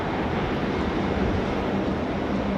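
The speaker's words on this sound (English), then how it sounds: "Jetstar 522 is going to be the next one in on 16 right" A Jetstar airliner landing on runway 16 right at Sydney Airport produces a steady, broad roar of jet engine noise, heard alone and moderately loud throughout.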